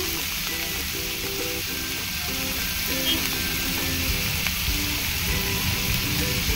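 Chopped onion sautéing in a pan for a bottle gourd chutney, giving a steady, continuous sizzle that runs evenly throughout, with faint tonal hums and occasional light stirring scrapes in the background.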